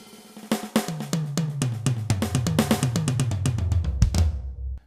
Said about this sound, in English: This is the sound of the Yamaha Birch Custom Absolute.